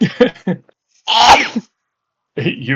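A single loud sneeze at close range, with people talking before and after it.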